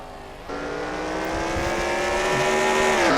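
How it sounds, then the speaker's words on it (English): A pack of race cars at Bathurst roars past, engines swelling suddenly and building into a loud sustained whine that climbs in pitch as the group approaches. "Here comes a bunch of other cars."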